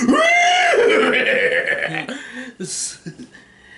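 A person imitates a horse neighing: a loud, wavering whinny-like vocal cry that slides up and down, followed by snorting and chuckling sounds, all close and alone.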